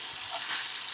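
Steak frying in a hot pan, a continuous bright, crackling sizzle heard close up and alone, steady for the whole second.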